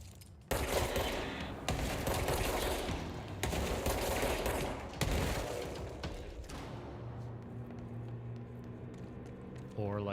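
Rapid bursts of automatic gunfire from the video game Control rattle loudly for several seconds, broken by short pauses, then fade into quieter in-game ambience.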